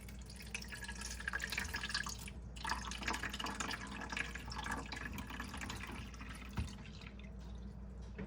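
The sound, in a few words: water being poured into coffee maker reservoir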